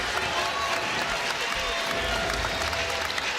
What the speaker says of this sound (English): this crowd very appreciative of that defensive effort